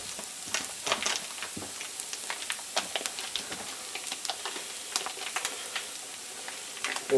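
One pound of lamb frying in oil in a pan, a steady quiet sizzle broken by crackles and scraping stirs, close up, with no talk.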